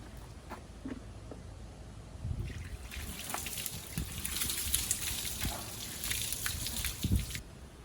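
Water thrown from a couple of buckets over the boot spoiler of a Ford Falcon outdoors for a leak test, heard as a steady splashing and trickling wash with scattered drips and gurgles, moderately loud and close, with no speech.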